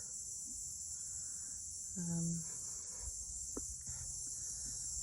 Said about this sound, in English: Cicadas going nuts.